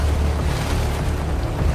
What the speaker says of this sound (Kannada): ಹೆಂಗೆಲ್ಲ ಆಡ್ತೈತೆ ನೋಡಿ ಟೆಂಟ್